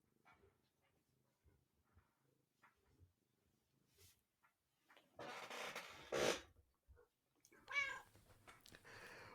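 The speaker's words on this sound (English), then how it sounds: "before my cats interrupt this podcast anymore" Pet cats meow at home during a podcast recording, a few close, loud cries with some quieter rustling and soft sounds between them.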